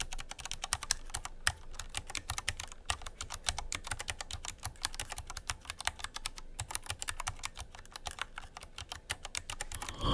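A mechanical keyboard fitted with POM keycaps is typed on continuously. It gives a rapid, clacky stream of close keystrokes with irregular rhythm and occasional heavier presses.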